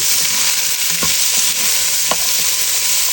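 Shallots and curry leaves fry in a pan with a steady, close sizzle, broken twice by short scraping stirs of a spoon against the metal.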